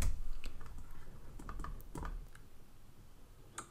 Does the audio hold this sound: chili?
no